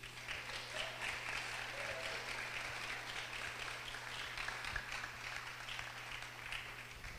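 Sustained applause fills a church for several seconds, a dense, steady wash of many hands clapping with a faint low hum beneath it.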